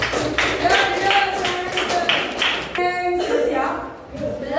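A group of children claps in a lively, rhythmic burst for classmates in a classroom, the claps sharp and close, with voices mixed in among them.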